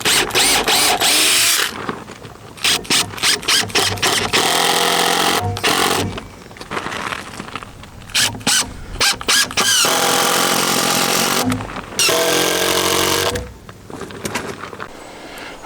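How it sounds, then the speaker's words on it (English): A power drill drives screws into the wooden wall of an inground pool, sounding as loud, close whirring bursts of a second or two each, separated by brief pauses. "use normal screws and screw them from the side like this"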